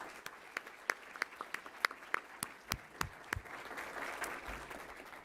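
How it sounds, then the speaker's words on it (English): A small group at a panel event on NCAA NIL rules claps, starting with a few distinct separate claps that blend into a brief, light round of applause. "Can we have a round of applause for them, please?"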